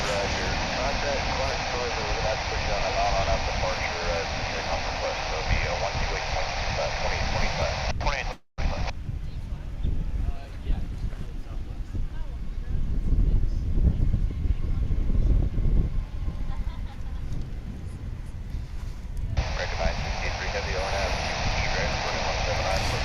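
American Airlines Airbus A321 arriving from Portland, Oregon, at DFW International Airport, a steady broadband engine roar with wind buffeting the microphone, sustained and moderately loud throughout.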